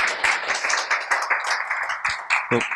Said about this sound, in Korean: 박수로 또 이 시간을 마무리하겠습니다